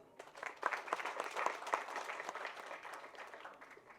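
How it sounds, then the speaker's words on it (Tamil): Applause from an audience at a Tamil film event, a dense patter of clapping that swells early and then continues steadily before gradually thinning, heard alone without voices. "பயங்கரமான மிகுந்த கரகோஷத்தை கொடுத்ததுக்கு நன்றி"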